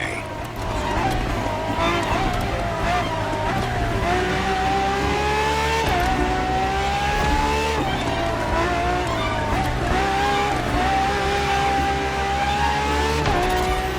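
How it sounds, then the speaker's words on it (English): Ferrari FXX-K, a track-only evolution of the LaFerrari supercar, racing in The Crew Motorfest, its engine roaring loud and steady with rising revs and gear shifts, briefly faint at the start, then continuous with tyre squeal throughout. "you'll be driving the FXXK."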